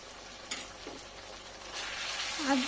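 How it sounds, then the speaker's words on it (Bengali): Ginger-garlic paste fries in a pan while a chicken dish is cooked, with a quiet hiss that grows fuller in the second half, a sharp clink near the start and a brief squeak at the end. "আদা রসুনের পেস্ট খুব ভালোভাবে ভেজে নেব"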